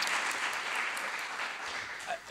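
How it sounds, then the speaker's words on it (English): Conference audience applauding at a parallel session, a dense, even clapping from a room full of people that fades slightly toward the end. "why not a round of applause?"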